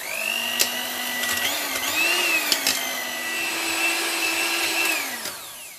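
An electric hand mixer whirs steadily while beating chocolate chip crinkle cookie dough, a close, high motor whine that shifts pitch as it works and stutters with brief clicks and scrapes against the bowl.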